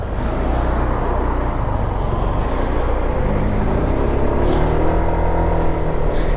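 A classic motorcycle engine drones steadily during a casual ride, a loud continuous low rumble with wind and road noise and no pauses, heard close from the rider's position.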